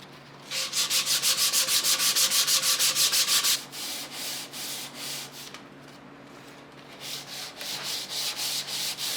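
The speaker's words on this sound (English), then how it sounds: "So I'm going to just keep sanding on this" Close, loud sanding of a wooden handle for a vintage adze, with quick regular back-and-forth strokes, first fast and even, then slower and softer, then picking up again.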